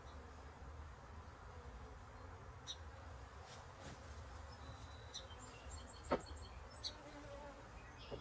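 Honey bees swarm around an open hive during a split, a faint continuous buzzing with a few louder passes as individual bees fly close to the mic, no talking.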